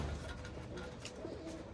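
Andhra pigeons coo softly and repeatedly nearby, a low rolling call amid faint background noise in a pigeon-keeping setting.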